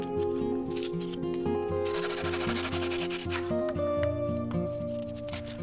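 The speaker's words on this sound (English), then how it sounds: "using a hacksaw I cut away all the extra pieces" Hacksaw cutting through foam to rough out a magic staff shape, a continuous rasping, rubbing stroke sound under background music, close and steady throughout.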